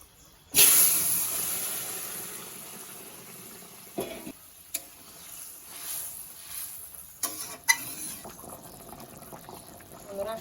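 Curry with whole bay leaves and cumin for a rohu fish dish hits a hot pan and bursts into a loud hiss. The sizzle then settles into a softer crackle with occasional clatter.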